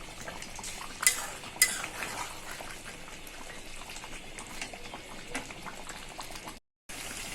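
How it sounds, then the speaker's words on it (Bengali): A spoon stirs beef kala bhuna curry as it cooks down in a pan, scraping and clinking against the metal over a soft bubbling sizzle, with two sharper knocks early on and a brief dropout near the end. "তো এইভাবে নেড়ে চেড়ে আমি ঝোলটা ভালো করে শুকিয়ে নেব।"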